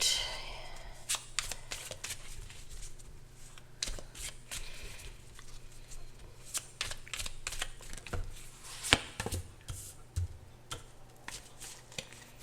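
Tarot cards are shuffled close by in quick, crisp riffling bursts with soft taps and slides between them, all fairly quiet.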